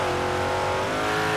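A big block dirt modified race car in iRacing at Lincoln Speedway screams at full throttle, a loud steady engine roar with a sustained high rev and no break.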